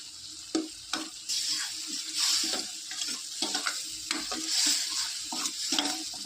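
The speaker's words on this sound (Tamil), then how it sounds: "இன்னும் கொஞ்சம் எண்ணெய் ஊற்றிக்கிறேன்." Onions, tomatoes and green chillies fry in oil for a chutney, a steady close sizzle broken by the scrape and clatter of stirring in the pan.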